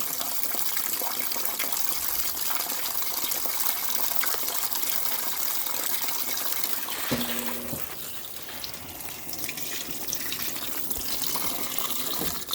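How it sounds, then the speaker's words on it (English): Water gushes steadily into the tub of a Maytag commercial top-load washer as it fills with the lid up, a loud continuous rush with a brief lower mechanical hum partway through. "And we can watch it wash the clothes."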